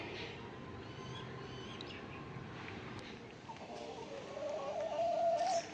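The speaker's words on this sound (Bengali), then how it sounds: "আর দেখো সুবির মা এখানে মুরগি ছেড়ে দিয়েছে" Chickens released in a rural yard cluck and call close by over a steady outdoor background, with a brief rising bird call near the end.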